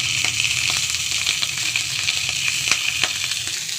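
Food dropped into hot smoking oil in a frying pan, giving a bright, dense, continuous sizzle and spatter close by, with small crackling pops scattered through it.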